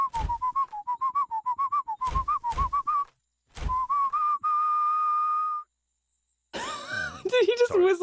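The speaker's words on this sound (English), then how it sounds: "Did he just Sorry. whistle the Zelda tune?" A video game character whistles a short melodic tune, the Zelda theme, in clear bright phrases broken by brief pauses, with a long held note, followed by a burst of other in-game sound.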